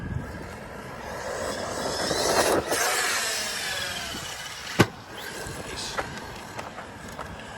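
A Tekno ET48 RC motocross truck rips across gravel, its electric motor whining and rising to a peak, then fading amid crunches and a sharp landing thump, with a voice briefly speaking.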